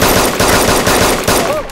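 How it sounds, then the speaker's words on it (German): Rapid bursts of loud gunfire in the video game DayZ crackle in quick succession, several sharp volleys close up with a faint voice near the end. "Hörst du die Schüsse?"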